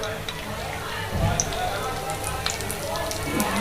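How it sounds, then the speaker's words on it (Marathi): Cumin seeds crackle in hot oil in a pan, a soft steady sizzle with scattered pops, fairly quiet and continuous. "आपलं तेल छान गरम झालंय, त्यात मी 1 चमचे जिरं घातलंय।"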